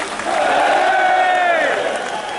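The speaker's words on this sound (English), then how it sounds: "Give us another cheer, go on!" A street crowd on a London march joins in a loud, swelling collective cheer and shout that rises, holds for a second or two, then fades.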